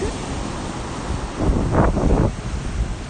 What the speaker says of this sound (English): there's something really different about being able to like hear up close each wave and also kind of feel the spray